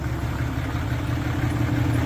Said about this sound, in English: Now she's down to a slow idle because I revved it up.